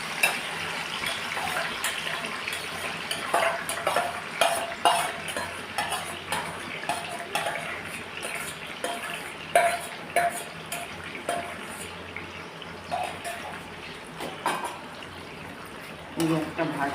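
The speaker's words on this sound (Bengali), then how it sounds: "এটা একটুখানি তেলে নেড়ে নিই" Ash gourd frying in a little oil in a pan with whole spices, a continuous sizzle under repeated spoon scrapes and clinks as it is stirred.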